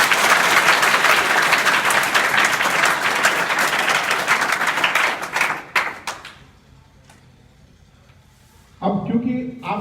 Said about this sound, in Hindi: तो एक जोरदार ताली बजाओ अपने लिए।